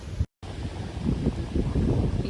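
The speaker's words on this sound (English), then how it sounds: "It's gotten a little windy." Wind blows outdoors and buffets the microphone in a steady rough rush, loud and close, briefly cut by a moment of silence near the start.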